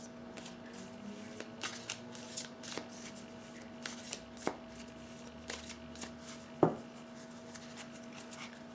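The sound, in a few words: shuffling tarot cards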